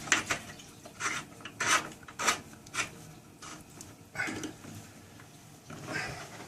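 A faucet aerator is screwed back onto a tap during a Boeing 737 water system test, making short, quiet rasping scrapes of threads turning in uneven bursts. There are faint background sounds but no clear talking.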